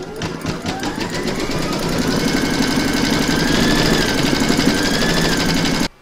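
An embroidery machine stitches the quilting outline on an in-the-hoop snow globe, a steady fast mechanical whirr with rapid needle ticking running continuously at close range for nearly six seconds, then stopping abruptly.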